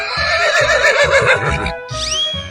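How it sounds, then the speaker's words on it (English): A loud, close horse whinny from a 3D animal slide game rises and wavers for over a second, then a shorter squeal follows, over a repeating thumping game music beat. "Horse."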